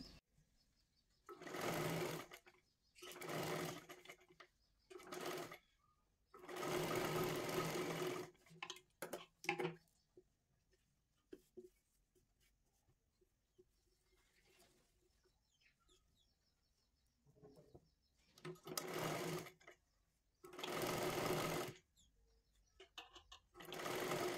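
A sewing machine stitches a katori blouse in repeated bursts of rapid clattering, each lasting one to two seconds, separated by quiet pauses, heard close and alone.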